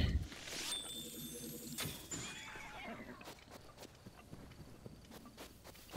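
A horse in The Legend of Zelda: Breath of the Wild gives a whinny and snorts, followed by faint hoof clip-clops and soft steps as it moves off, fairly quiet overall.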